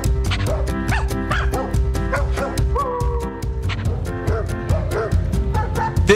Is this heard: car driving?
no